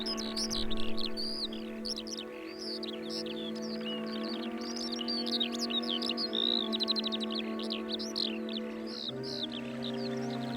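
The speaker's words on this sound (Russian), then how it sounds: "жаворонок поет, не дожидаясь, пока растает утренний иней" A skylark sings in spring, pouring out a continuous stream of bright chirps and trills over a steady, low sustained tone.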